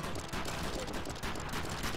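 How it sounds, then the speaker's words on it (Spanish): Explosions and gunfire in the video game Trigger Witch make a dense, continuous, loud burst of blasts and crackling shots with no pause, and a voice is faintly audible underneath. "¿en serio me da esa explosión?"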